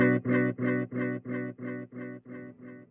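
A guitar-like tone runs through the spring reverb of a Ventris Dual Reverb pedal, repeating as a string of about nine evenly spaced echoes that slowly fade, each with a metallic splashy tail, and no speech.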